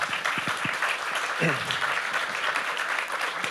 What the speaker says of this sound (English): I think we can give a big round of applause to our panelists.